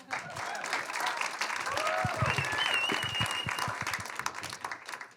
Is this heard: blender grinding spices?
no